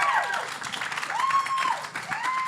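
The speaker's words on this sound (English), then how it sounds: "Give him a round of applause." A book festival audience applauds as an author is introduced, with continuous moderately loud clapping and a few rising whistle-like tones or cheers cutting through.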